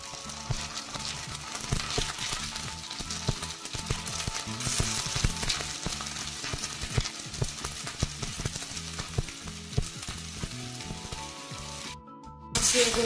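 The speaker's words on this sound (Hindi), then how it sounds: "अब आलू को कम से कम 2 से 3 मिनट के लिए जो है हम भून लेंगे।" Potatoes fry in hot oil in a pan, producing a dense, steady sizzle with crackle and occasional stirring scrapes that suddenly cut out near the end.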